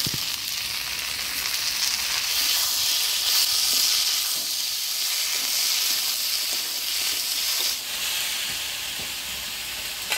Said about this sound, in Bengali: এবারে কাটিয়ে রাখা টমেটো দিয়ে দিব। কাটিয়ে রাখা আলু আর কুচি দিয়ে দিব।